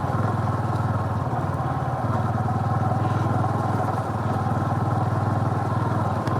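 A Honda Super Cub motorcycle riding along a forest trail, its small engine putting out a steady, close, mid-pitched drone with a rattling chug under it that holds constant throughout.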